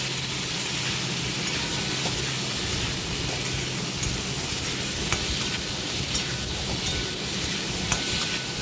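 Steady frying sizzle with soft stirring of spices in a pan for Bengali-style ghugni made with peas, a continuous dense hiss with scattered small scrapes and no voices.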